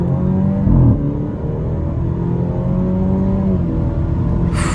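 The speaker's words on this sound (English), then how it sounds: "This car just screams, and it bellows, and it goes" An Alfa Romeo Giulia engine revs and bellows with a sustained low roar, loud and close, the pitch rising and falling as it pulls hard around a corner.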